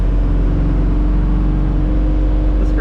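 A 1969 Chevrolet Camaro Z28 cruising down the road at about 55 mph, its engine a loud, steady low drone with constant road and wind rumble and no breaks.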